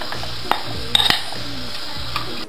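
A utensil stirs carrots and zucchini in a pan, giving a few sharp clinks against the metal over a low, steady sizzle with light scraping in between.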